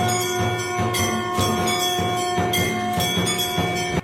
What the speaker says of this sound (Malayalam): മണിയുടെ സൗണ്ട് മാത്രമേ ഉള്ളൂ